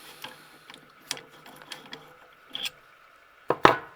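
Small metallic clicks and ratcheting taps as a small lathe's tool post assembly is unscrewed, scattered sparse ticks ending in two sharper knocks.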